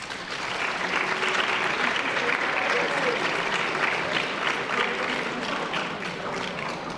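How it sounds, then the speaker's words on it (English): A crowd of families applauds steadily at a high school fall sports awards ceremony, a sustained wash of clapping from a large room without a break. "give them a round of applause."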